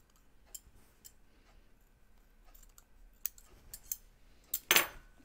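Scissors snip through a fabric seam allowance on a sewing project, scattered quiet clicks and cuts that end in a louder burst of snipping.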